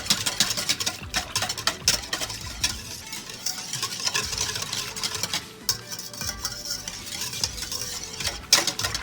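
Pizza dough ingredients, sugar among them, are stirred by hand in a bowl in a home kitchen, with continuous scraping and clattering utensil strokes close by, busy and fairly loud, without speech.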